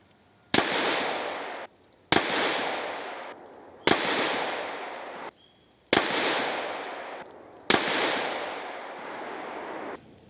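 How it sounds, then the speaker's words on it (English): Five unsuppressed rifle shots from a SIG SLX 556C ring out one at a time at even intervals of roughly one and a half seconds. Each is a loud, sharp crack followed by a long, fading echo. "Here's a 5-round group fired unsuppressed."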